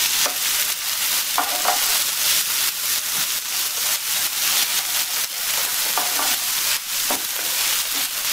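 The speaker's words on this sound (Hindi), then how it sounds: "ये पेस्ट डाल देंगे हम इसमें, अदरक लहसुन सौंफ और इसका इसे मिक्स कर देंगे।" A paste of ginger, garlic and fennel stirred into a hot pan with ajwain and turmeric powder for a gobi paratha filling, giving a steady, close sizzle and hiss with repeated scraping strokes of the spoon, and no talk.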